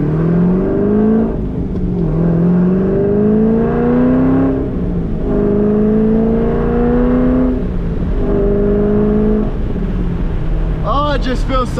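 A cammed C5 Corvette engine is driven through the gears of a 6-speed manual, loud and close, with repeated rising revs broken by brief dips at each shift and a sharp crackle at the end.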